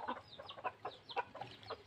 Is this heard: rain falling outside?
no